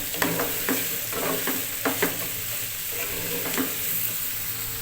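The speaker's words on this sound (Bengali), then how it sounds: "কাঁঠালটাকে দিয়ে ভালো করে নেড়েচেড়ে মিশিয়ে নেব তেলের সঙ্গে প্রথমে" Raw jackfruit pieces fry in hot oil and are stirred in a pan, a dense continuous sizzle with repeated spatula scrapes and light knocks, close and alone without speech.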